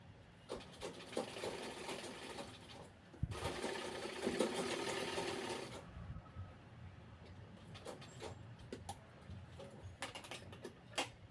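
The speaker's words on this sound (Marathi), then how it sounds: "आता आपल्याला दोन्ही बाजू शिवायच्या आहेत साईडच्या बाहीपासून ते कमरेपर्यंतचा हा भाग आपल्याला जोडून घ्यायचा आहे" A sewing machine stitches the sides of a Paithani saree dress in bursts of rapid mechanical whirring, with a longer loud run in the middle followed by quieter intermittent clicks and handling noises.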